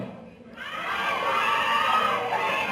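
A crowd of fans erupts into sustained shouting and cheering at a celebrity appearance, a loud dense roar of many voices with high-pitched screams that rises suddenly and holds steady.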